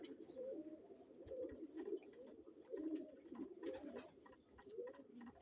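A pigeon cock cooing nearby, with a steady series of low rolling coos repeating across the whole stretch over faint background noise.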